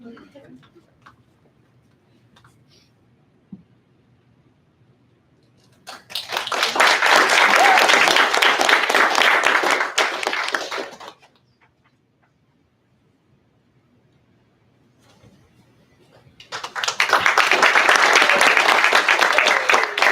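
At a graduation ceremony, an audience claps for the graduates in two separate bursts of sustained, close, full applause. Each burst rises from near silence, holds steady for several seconds, then stops; a second round follows after a quiet gap.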